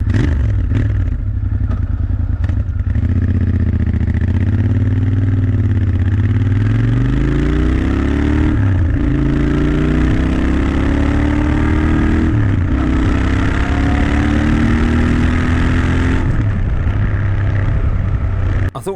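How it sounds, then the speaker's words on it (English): A Royal Enfield 650 twin, Interceptor or Continental GT, pulls under load on the road, its engine note rising and falling through several gear changes, loud and close, with rumbling exhaust and some clatter. "try and give you an idea of what the bike sounds like under load"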